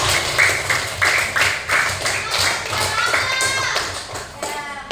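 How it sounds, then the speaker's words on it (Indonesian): Students in a classroom clap for their classmates during a practice teaching lesson, a burst of uneven, close handclaps in loose rhythm that swells and fades over several seconds, with a few voices mixed in underneath. "Beri tepuk tangan dulu dong untuk teman-temannya yang bisa mulai tadi."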